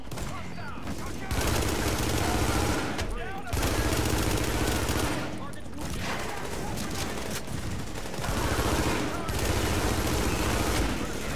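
Shotgun-wielding enemies in The Division video game fire repeatedly in loud bursts of gunfire, with rapid overlapping shots in several dense stretches and brief gaps between them.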